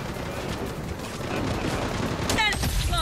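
Rapid gunfire bursts from the mobile shooter game Blood Strike crackle steadily throughout, with game sound effects chiming near the end.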